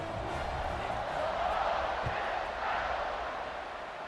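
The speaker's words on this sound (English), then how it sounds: "this crowd now ready to get behind them" Stadium crowd roaring steadily at kickoff in the College Football 26 video game, a dense, continuous wash of cheering that swells slightly midway and holds at a fairly loud level.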